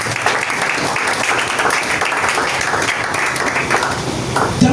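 A church congregation clapping throughout, a full, sustained wave of applause at a constant level, with faint voices mixed into the crowd noise.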